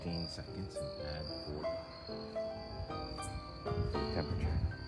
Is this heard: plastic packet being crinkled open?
no